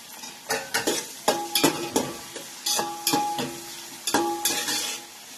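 Chopped tomato and onion fried together for pav bhaji, stirred with a spoon that scrapes and clinks against the pan in repeated rhythmic strokes over a sizzling base, close and fairly loud, no talking.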